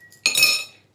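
A metal tablespoon clinks once against a glass jam jar while rapeseed oil is spooned in, a single bright ringing chink that decays over about half a second.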